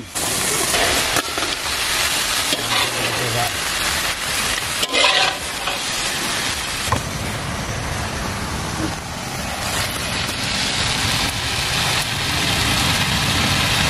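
Cut and washed taro flowers fry in a pan for a shrimp dish, giving a loud, dense sizzle with occasional stirring scrapes and clatter throughout.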